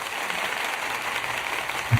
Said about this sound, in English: Wow, there's an applause.